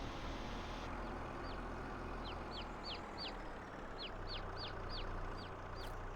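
Clucking chickens in a farming video game, a string of short clucks recurring every half second or so over a steady, busy farm ambience.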